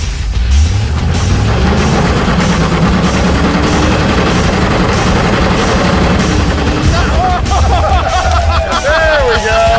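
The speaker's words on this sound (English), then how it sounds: "The engine is seizing." A beater car with a seizing engine roars through a tire burnout, loud and continuous with rough booming bursts and screeching tire squeal, while people shout and talk over it.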